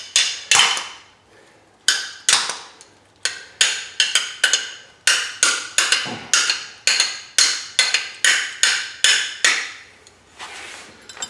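Repeated sharp metallic knocks strike in quick bursts as a nut is knocked out without a hammer, close up and loud, with brief pauses between clusters of blows.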